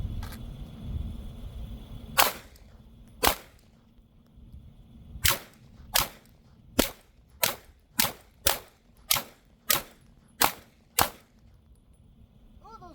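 Glock 48 pistol fired on an outdoor range: about a dozen sharp, loud shots, two spaced apart at first, then a quick, steady string of evenly timed reports, each ringing out with no talk between them.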